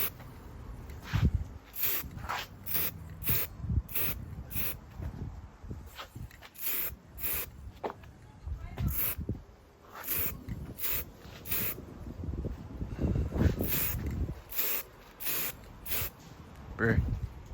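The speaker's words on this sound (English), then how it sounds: "I'm trying to paint it where I can get it because the wind is blowing spray." Repeated short hissing bursts of a spray can coating car trim outdoors in the wind, about a dozen evenly spaced sprays over steady rustling wind noise and handling sounds.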